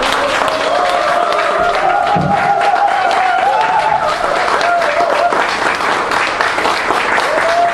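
An audience applauds and cheers at the opening ceremony of the Hongseong YMCA hall as a broadcaster-politician is welcomed: loud, continuous clapping with crowd shouts and a voice rising over it throughout.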